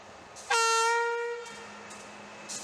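A rescue train's horn blares loudly for about a second on Queensland's Isa line, then fades as the train rumbles past on the rails, with short bursts of hiss afterward.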